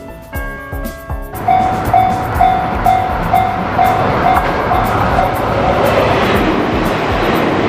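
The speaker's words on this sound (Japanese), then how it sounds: "特急列車がこのように頻繁に運行されています" A limited express train rumbles past nearby near Komagatake in Hokkaido, Japan, loud and steady, with a rhythmic clatter of wheels over rail joints and a brief tonal whine.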